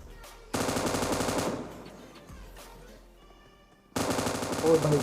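Automatic weapon fire in the mobile battle-royale game PUBG Mobile comes in two rapid bursts separated by a quieter stretch of faint game sounds.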